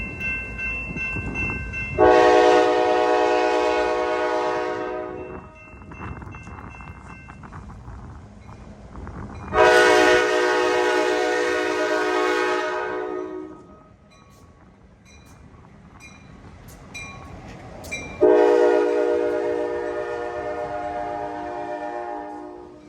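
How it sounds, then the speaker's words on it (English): KCS 1 leads the holiday express passenger train, sounding three long, loud horn blasts spaced several seconds apart over a steady rail rumble. "KCS 1 leads the holiday train into town for a brief stop before resuming its otherwise straight shot"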